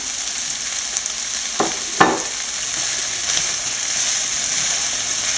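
Aviyal vegetables cooking in a pan as green tomato goes in, a steady soft sizzle with two sharp stirring clatters partway through, no talking.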